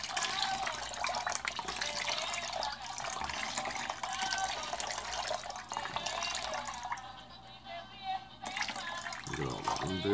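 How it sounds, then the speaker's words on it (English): Oat water pours steadily into a filling bathtub for several seconds, a continuous close splashing rush with faint drips, no talking. "I'm going to add the oat water, making sure that I don't get the oats"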